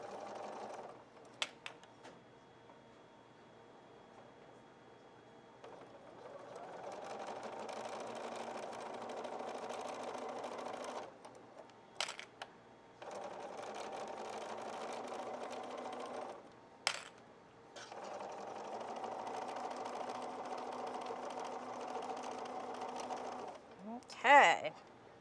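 A sewing machine stitches outdoor cushion fabric in several sustained runs of steady mechanical whirring. Short pauses and clicks separate the runs, and a voice can be heard between them.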